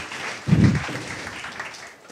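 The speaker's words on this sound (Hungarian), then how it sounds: "Óriási tapsot szeretnék kérni Tündinek." Brief applause from an audience at a stage talk, with a low thump early on and moderate clapping that thins out toward the end.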